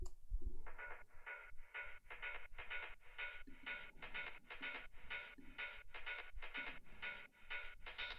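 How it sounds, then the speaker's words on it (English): TR-909 drum machine roll pattern of rapid, evenly spaced bright hits, roughly two per second. It plays steadily for eight seconds, clear and alone. "I'm adding this roll on the TR-909 with a drum pattern that sounds like this"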